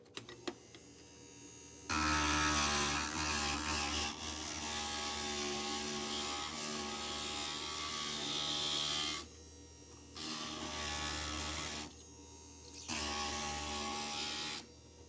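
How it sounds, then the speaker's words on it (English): A stained glass grinder smooths the rough edges of a cut glass piece, giving a steady high whirring grind. It runs in a long stretch, then in two shorter bursts with brief pauses between them, fairly loud and with no voices. "I'm going to go ahead and just touch it up on the grinder really quickly"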